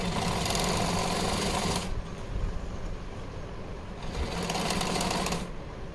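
A sewing machine stitches cloth to its lining while making a Janmashtami costume, running in a loud, steady whirring burst, pausing briefly, then whirring again, close up with no talking.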